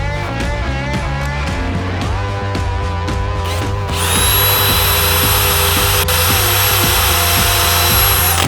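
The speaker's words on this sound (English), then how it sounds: "let's head to the vise and drill some holes" A power drill whines with rising, shifting pitch, then settles into a loud, steady high-pitched grinding as it bites into wood held in a vise, over a low motor hum.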